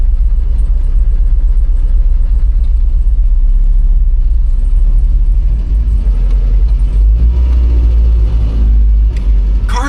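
Citroen car engine lugging under load while driving, a loud, steady low rumble and drone that persists throughout with road noise.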